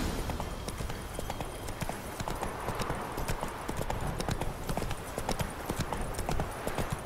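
Horse hooves clip-clopping at a brisk, steady gait while riding in The Witcher 3, a dense continuous rhythm of close hoof strikes over a constant background wash, with no talk.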